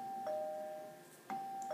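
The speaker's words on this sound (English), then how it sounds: "Works like an actual doorbell" A doorbell from the Minecraft furniture mod, built from a note block and a button, rings two clear, clean electronic chimes in a quiet game setting.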